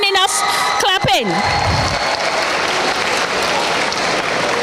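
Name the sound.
audience applause at awards ceremony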